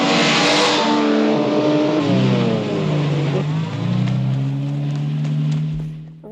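A car engine roars and revs hard during a chase, a loud close drone that rises and falls in pitch before fading slightly at the end; no talk.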